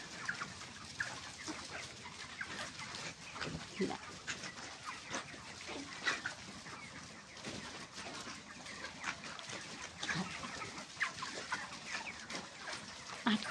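Chickens on a poultry farm, where the birds are falling sick and dying, cluck and squawk in a busy, continuous flock chorus, with scattered sharper calls rising above a steady bed of noise.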